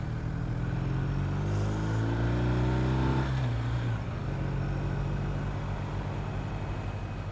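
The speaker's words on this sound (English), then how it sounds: "Cars coming down." Cars and motorbikes pass on a mountain road in Romania, a steady engine drone with one vehicle's pitch sweeping down as it goes by, loud and close throughout, with no talk.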